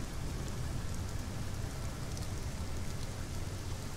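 A thundering waterfall in the video game Sunless Skies, a dense, steady roar of rushing white water with a constant broadband wash and no pauses, heard alone.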